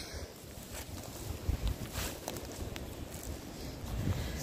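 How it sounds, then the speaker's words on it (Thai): Strong outdoor wind gusts buffet the microphone beside a fern plot in a woodland garden, a steady low rumble with louder surges around the middle and end, no voices. "ลมแรงนะคะ"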